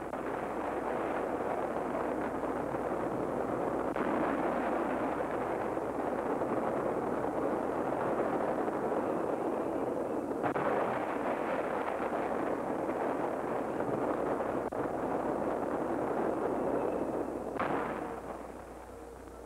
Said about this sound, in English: Those words seemed a part of the explosions and the roar of the gun.